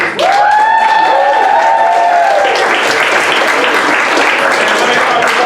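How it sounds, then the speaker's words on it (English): Loud, sustained applause from a large audience at a live science-communication improv show, with a few cheers and whistles rising over the clapping. "Keep that applause going for our scientists."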